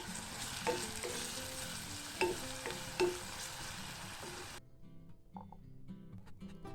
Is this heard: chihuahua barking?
no